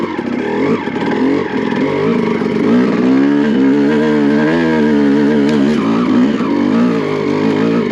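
A Honda CR250 two-stroke motocross dirt bike engine revs up and down in loud, sustained, buzzing bursts, close by throughout with no talk.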